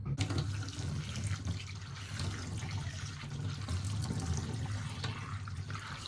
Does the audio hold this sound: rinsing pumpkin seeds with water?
yes